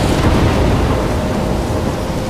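A thunderstorm in Life is Strange, with heavy rain pouring steadily and low thunder rumbling underneath, loud and continuous with no voices.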